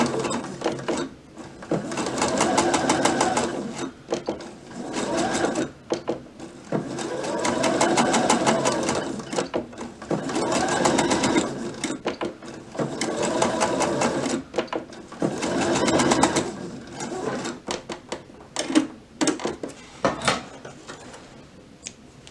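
Sewing machine doing back-and-forth stitching on overlapped elastic, close and clear, running in several rhythmic bursts of fast needle chatter separated by short pauses.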